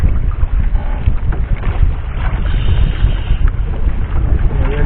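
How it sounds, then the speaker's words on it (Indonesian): Strong wind buffets a squid fishing boat out at sea, a loud continuous low roar of gusts and wind noise mixed with water and hull rumble, with no voices. "Karena anginnya juga lumayan kencang ini."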